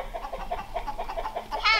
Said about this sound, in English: The dog is chasing the chickens.